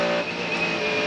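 A Toyota race car engine drones loud and steady during an endurance race, a sustained high-revving tone with other cars nearby.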